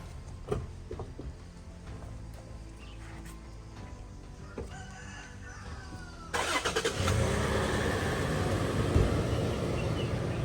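A Toyota Prado engine turns over and starts, then settles into a louder steady running roar as it drives off, with chickens clucking faintly nearby in a village setting.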